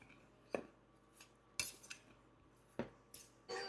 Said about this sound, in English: we're just going to give it a big stir and kind of combine it